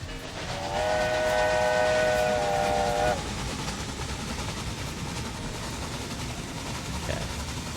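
Steam locomotive whistle in the railway strategy game Railway Empire 2 as a loaded passenger and mail train heads out, a loud sustained multi-tone blast for about two seconds over a steady rumbling rail bed, then running noise alone.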